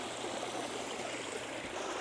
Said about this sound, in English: So this waterfall is just awesome.